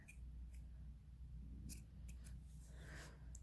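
Scissors snip the excess yarn tail off a finger-knitted single chain, a few faint, brief clicks over a steady low room hum with no talking.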